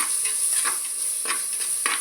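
Spices tempering in hot oil for a home-cooked dish, a steady close sizzle with soft stirring scrapes, a few brief bursts of louder crackle, no voices.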